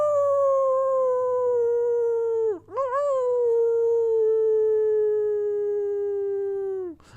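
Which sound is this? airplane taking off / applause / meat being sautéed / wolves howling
wolves howling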